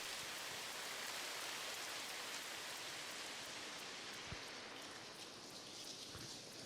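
Soft, even rain heard from inside a cave in the video game No Man's Sky patters continuously at a low level, with an occasional faint drip standing out. No voices.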